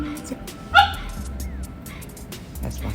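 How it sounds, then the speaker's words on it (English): A dog gives a single sharp, close bark, then whimpers faintly, while someone talks over it indoors. "That's my son's dog."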